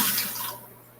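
Old water poured out of a blackworm culture container, a short close splash and trickle that fades over about a second, with no talk.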